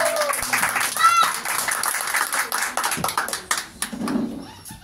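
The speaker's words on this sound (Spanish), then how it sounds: "Fuerte ese aplauso" Guests clap at a birthday party with a youth mariachi band playing, the applause scattered and lively, mixed with voices and bits of music.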